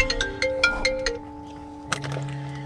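A phone ringtone chimes in a car, a short repeating melodic pattern of bright tones that fades out, then a brief final note; no talk over it.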